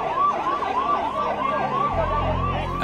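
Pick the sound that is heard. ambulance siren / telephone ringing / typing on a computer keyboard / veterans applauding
ambulance siren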